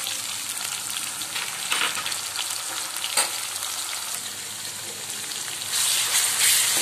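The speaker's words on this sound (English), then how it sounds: "Now add ginger garlic paste." Ginger garlic paste sizzles in a hot pan, a steady close crackling hiss with brief stirring scrapes, rising louder toward the end.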